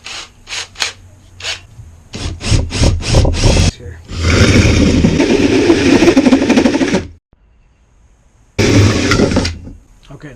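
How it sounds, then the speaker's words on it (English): A power drill bores a hole through a bowl sink being fitted in a camper van, giving a steady grinding whine for several seconds, a pause, then another burst. Short bursts of sound and a brief spoken word come earlier. "Now I'm going to drill it out."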